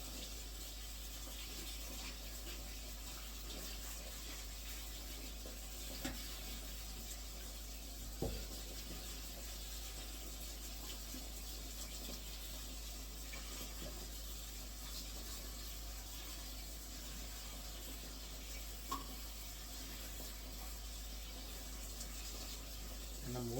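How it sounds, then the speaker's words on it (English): Warm water running from a tap while something is washed under it, a steady faint rush with occasional small knocks and splashes, continuing for a long stretch. "And I'm washing it with the warm water."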